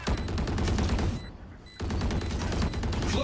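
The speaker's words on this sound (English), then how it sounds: "Flashbang." Flashbang going off in the Valorant video game amid dense, loud gunfire-like combat effects, with the whole mix briefly dropping to a muffled hush partway through before the noise returns.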